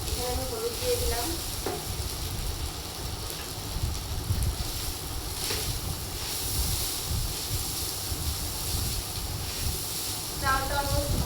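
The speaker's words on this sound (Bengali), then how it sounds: "চালটা অলমোস্ট ভাজা হয়ে গিয়েছে।" Rice frying in a pan with turmeric, a continuous close sizzle and scraping stir running throughout at a steady level, with occasional clinks.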